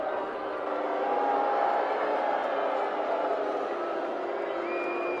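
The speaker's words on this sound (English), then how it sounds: "And the crowd erupts." Crowd at a minor-league baseball game between Bowie and Akron roars and cheers in a broad, steady wash of noise from a distance, swelling slightly and then holding, with a few whistles on top.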